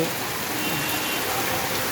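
Loud, close heavy rainfall in Jaipur, Rajasthan drums down in a continuous dense hiss for a brief moment, with no one speaking.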